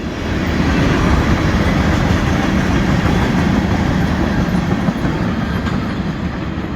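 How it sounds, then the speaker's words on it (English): A loud, continuous rumble of a train rolling past close by, with steady rattling and clatter of cars on the rails throughout. "All these towns have trains going through them."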